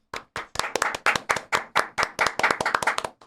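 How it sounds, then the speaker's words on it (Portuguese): A few people clap for a podcast guest on a show about football and politics, producing crisp, close, irregular hand claps in quick bursts with short gaps, with no voices over them. "Teve até o aplauso. Teve aplauso."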